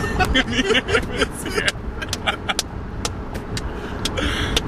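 Inside a moving car on a drive in Bloomington: a steady road rumble and engine hum run throughout, with repeated sharp clicks and rattles from the cabin over the top.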